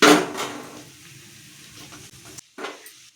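Tomatoes and curry leaves sauté in a pan with a close sizzle and stirring scrapes. The sound is strongest at the start, fades, then returns with a short clatter near the end.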